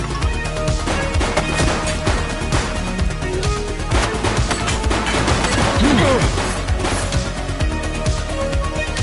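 Dense, chaotic gunfire from the police action game The Precinct, with repeated sharp shots and crashing impacts layered over a busy, loud background that runs continuously for the full stretch, with no clear pauses.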